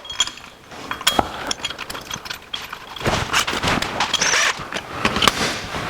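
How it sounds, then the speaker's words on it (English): A 1949 Chevrolet transmission mount is bolted up with a ratchet, giving close, loud runs of quick clicking and metallic rattles in uneven bursts, busier in the second half. "Let's bolt the transmission mount up."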